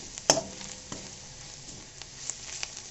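Coriander powder and garam masala frying in a pan while being stirred, a soft close sizzle with a few light scraping knocks and no talk.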